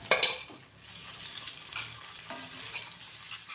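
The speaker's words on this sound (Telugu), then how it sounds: "నేనైతే స్పూన్ అల్లం పేస్ట్ వేసుకుంటున్నాను" Ginger paste frying in a pan with onions for a spinach chicken curry, a steady close sizzle with stirring scrapes and a brief utensil clatter at the start, no talking.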